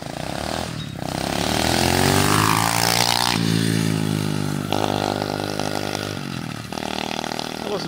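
An SSR 125cc pit bike passes at wide open throttle, its engine note sweeping up and then falling as it goes by, with loud revving and shifting pitch throughout. No voices.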